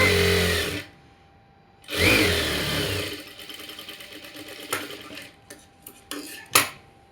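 Sewing machine stitching a lining seam on an umbrella frock: two short bursts of close mechanical whirring, then quieter clicks and handling taps as the fabric is adjusted.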